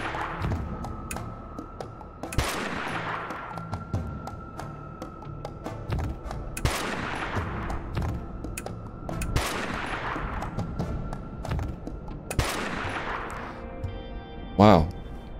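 Gunfire in the Dustland Delivery video game: sharp shots crack out at regular intervals about every two seconds, each with a long decaying tail, loud and close over a steady background hum.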